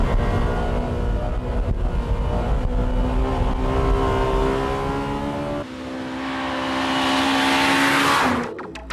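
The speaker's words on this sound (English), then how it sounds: "the Civic Type R has been tested intensively at this Takasu Testing Center's winding course" A Honda Civic Type R drives hard on the winding Takasu test course modeled on the old Nürburgring, its engine droning and rising steadily through gears, swelling louder near the end before cutting off abruptly.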